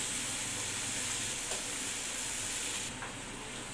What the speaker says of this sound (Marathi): यामध्ये आपण फोडी केलेली वांगी घालून ती देखील परतवून घेऊया